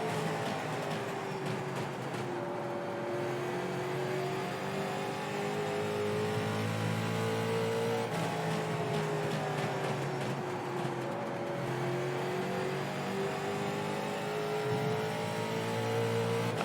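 Asphalt late model race car at Five Flags Speedway, its engine droning steadily as it laps the track with rising and falling pitch through the corners, loud and continuous with no talk.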